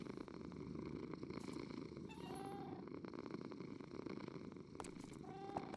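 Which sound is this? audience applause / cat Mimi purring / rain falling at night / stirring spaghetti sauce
cat Mimi purring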